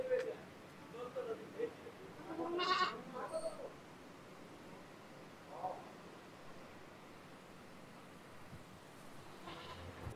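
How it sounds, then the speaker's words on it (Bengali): Barbari goats bleating in a few short calls near the start, with fainter bleats later, over low outdoor background noise. "বারবারি জাতের ছাগল।"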